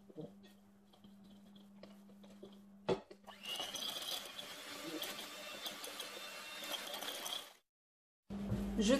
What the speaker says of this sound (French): Je mélange maintenant.